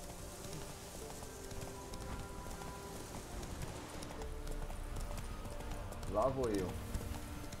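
Horse hooves clip-clopping in the game The Witcher 3 while riding, a soft rhythmic trot beneath someone talking, with a light rain-like patter and a brief whinny near the end.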